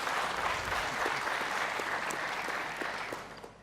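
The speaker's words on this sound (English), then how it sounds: "Once again, a round of applause for Mr." Audience applause at a presidential debate, a dense, steady wash of clapping from a crowded hall that holds throughout and tapers slightly at the end.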